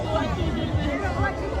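Thick Christmas Eve crowd at Linstead Grand Market in Jamaica, a steady close babble of many voices with one person talking nearby.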